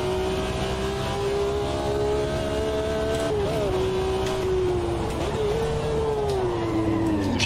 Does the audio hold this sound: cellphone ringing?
no